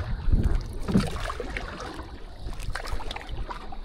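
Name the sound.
paddling a small boat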